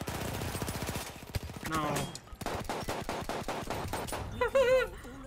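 Rapid automatic weapon fire bursts loudly in Battlefield 1, a fast rattling stream of shots broken by brief pauses, ending with a short spoken word and other game sounds.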